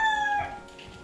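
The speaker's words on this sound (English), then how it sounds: "Cock-a-doodle-doo." A rooster crows once, a short bright harmonic call that fades out within a second.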